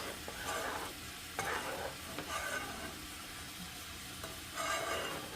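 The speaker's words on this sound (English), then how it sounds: "we're going to go ahead and use our whisk" A whisk works through a wet hamburger mixture in a bowl, making quiet, repeated swishing strokes in uneven bursts against a faint background hiss.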